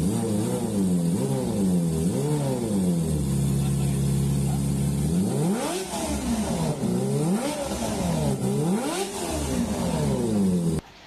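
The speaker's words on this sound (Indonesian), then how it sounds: "Sepeda motor yang menggunakan knalpot brong ketika dihidupkan memekakkan telinga." A big motorcycle with a loud aftermarket brong exhaust revs hard again and again, rising and falling in pitch, holding a steady high roar for a few seconds in the middle.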